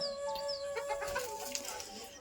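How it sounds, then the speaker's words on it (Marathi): Chickens cluck and chirp softly in a village courtyard beside an old country house, a brief quiet flurry of calls at moderate distance. "इकडे कोंबडी वगैरे फिरतात बघा"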